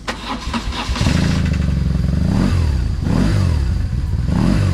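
A BMW R1200C motorcycle engine cranks briefly after a fuel pump whir, then catches and settles into a loud, steady idle with a couple of small revs, close by.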